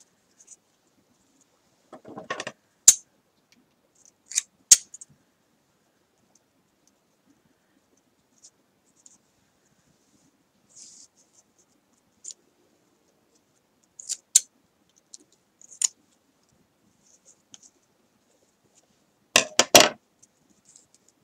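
Paper being cut down with scissors for a mini pocket letter kit, a handful of sharp, isolated snips and clicks spaced by near silence, close and fairly quiet.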